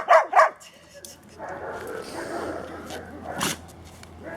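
A dog gives two sharp, close barks at the start, followed by softer yips and whimpers under a person talking.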